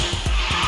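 A car drifting in the racing game Garena Speed Drifters, a purple electric B-class car: a loud, continuous tire skid over engine noise with rhythmic pulses through the short slide, with no voices.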